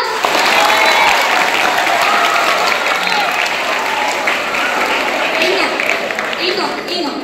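Audience at a school farewell function for SSLC students clapping for a teacher, a dense, sustained round of applause from a large crowd lasting the whole stretch, loud and close.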